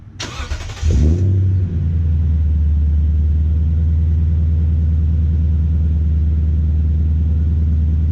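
A Toyota Tundra pickup with an aftermarket BAmuffler exhaust starts up and settles into a steady, deep idle with a throaty exhaust rumble, close and loud.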